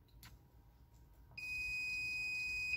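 Multimeter continuity beep while testing guitar piezo pickup wiring: a single steady, high-pitched electronic tone starting midway and holding to the end, clear and close against a quiet room.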